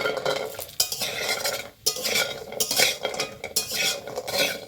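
Mashkalai dal bori being fried in hot oil with a steady close sizzle, broken by repeated sharp scrapes and clinks of a utensil stirring against the pan.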